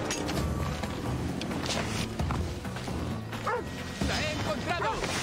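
A dog barks in Assassin's Creed Odyssey: a few bow-wow barks and yips rise over busy game sounds and someone talking throughout, with a crash-like hit mixed in.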